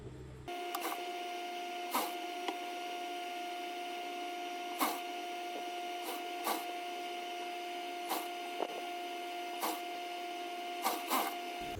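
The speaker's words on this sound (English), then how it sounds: "you'll be sewing your hijab cap down this way" A sewing machine stitching a layered hijab's cap to its body, a steady whirring hum with faint periodic clicks, close and continuous, without talk.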